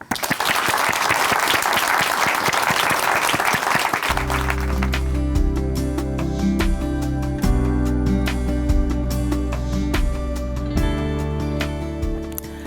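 A church congregation on a Korean Christian broadcast applauds a guest speaker, a dense burst of clapping that gives way to swelling instrumental music with sustained tones.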